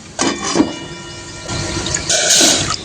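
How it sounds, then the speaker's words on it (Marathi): Three cups of water are poured into a pot for rice for a village-style tur pulao, producing a close gushing splash in a couple of bursts with no talking. "इथे मी तीन वाटी पाणी घेतलेलं आहे"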